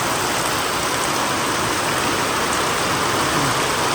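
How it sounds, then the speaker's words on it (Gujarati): Rain falls outdoors as a dense, unbroken hiss that holds at a constant, fairly loud level throughout. "જો વરસાદ તો બારે ચાલુ જ છે"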